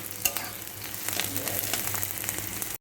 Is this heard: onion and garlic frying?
yes